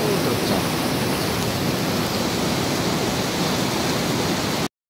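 River water pours steadily over the Watervang weir at Lubuk Linggau, a loud, continuous broadband rush of falling and flowing water with no break, heard alone until the clip cuts off.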